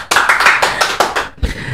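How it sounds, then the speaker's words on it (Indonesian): A small audience applauds at a political talk event in Sangihe. Brisk, close clapping lasts about a second and a quarter, then a brief pause and a softer last patter of claps. "Tepuk tangan untuk Bu Yunita ini."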